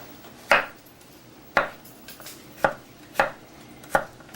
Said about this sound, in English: chopping up the garlic